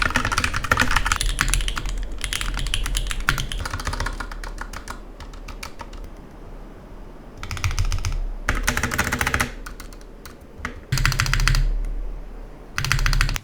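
Fast clacky typing on a $23 budget mechanical keyboard comes in bursts of rapid keystrokes, separated by brief quieter pauses, close and crisp.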